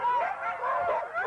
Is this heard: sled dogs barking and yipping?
yes